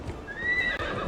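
A horse in Assassin's Creed Valhalla gives a brief whinny over soft hoofbeats and low game ambience, close and moderately quiet.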